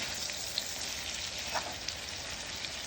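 Salmon pieces searing in a pan, an even, continuous close sizzle with small crackles and pops.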